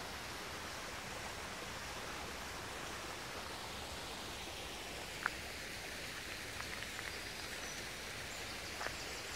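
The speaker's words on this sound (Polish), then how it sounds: "Słyszycie wodospad?" A distant waterfall gives a steady, broad rushing roar with no rise or fall, faint and unbroken, with a few tiny clicks on top.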